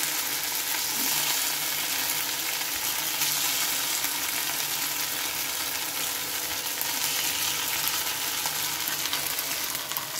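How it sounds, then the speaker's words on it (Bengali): Potato and flattened rice snacks deep-frying in oil give a dense, steady sizzle that hisses evenly and close by for the whole stretch, with no voices over it. "এগুলো কিন্তু ডুবো তেলে বন্ধুরা আমি ভাজছিলাম"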